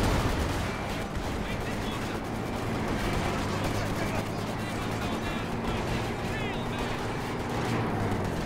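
Gunfire in the WWII strategy game Company of Heroes 2 rattles on steadily through a dense, loud battle mix, with heavier booms and blasts scattered among the shots.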